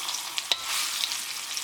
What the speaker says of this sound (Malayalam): ഇതും ഈ നെയ്യിലൊന്ന് വറുത്തെടുക്കാം.